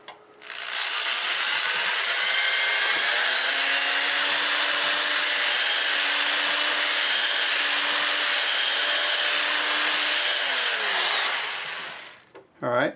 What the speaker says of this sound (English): start with 80 grit on the inside, and it looks like I can sand this under power